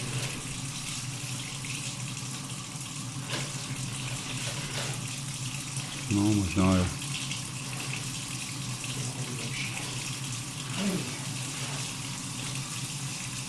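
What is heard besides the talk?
water flowing through drain pipe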